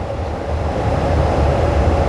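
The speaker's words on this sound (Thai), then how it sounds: "นี่ก็สถานีรถไฟดอนเมืองนะครับผมเป็นสถานีแห่งใหม่" A train at Don Mueang railway station in Bangkok gives a steady, continuous low rumble with broadband rail noise, fairly loud and unbroken throughout, with no talking.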